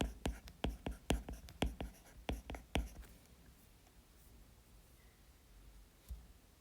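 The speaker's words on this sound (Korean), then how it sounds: "자, 예문도 한번 써볼게요." Pen strokes on paper for about three seconds as an example sentence is written down in a vocabulary lesson, quick scratchy bursts in a steady rhythm, close and fairly soft, then quiet room tone with one faint tap near the end.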